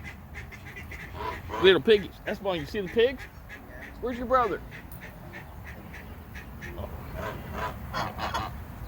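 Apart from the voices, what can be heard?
geese at a petting zoo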